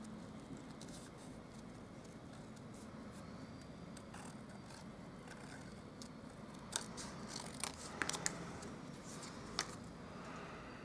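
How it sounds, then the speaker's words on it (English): Scissors snip through paper leaf shapes for a handmade Stampin' Up! thank-you card, soft crisp cuts spaced irregularly over a steady low background hum, a few sharper snips near the end. "And then I'm going to cut the leaves."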